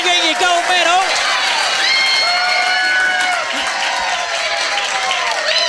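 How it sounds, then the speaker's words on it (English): A pub crowd at a trivia quiz night at The Yard claps and cheers loudly for a gold medal winner, with dense steady applause, whoops and high shouts mixed with excited voices. "give him a huge round of applause"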